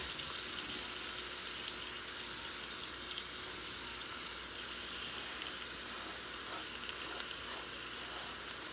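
Pork fat-side down sizzling in avocado oil in an Instant Pot, a steady, faint hissing crackle that holds evenly throughout with no talk over it.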